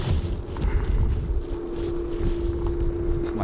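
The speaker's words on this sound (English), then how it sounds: "we'll get our unmistakable Wookiee sound from the Embraers" A steady hum with a sustained droning tone rises from an Embraer airliner's engines at Dublin Airport, close and loud, layered over heavy wind buffeting the microphone.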